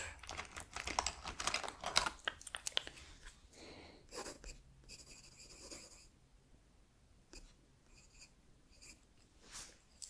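A pen scratches across paper as an artist signs a drawing, a cluster of quick close scribbling strokes first, then sparser soft scratches, all quiet and intimate.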